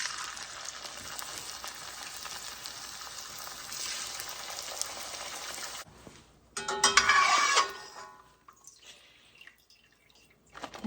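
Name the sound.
tortilla chips frying in oil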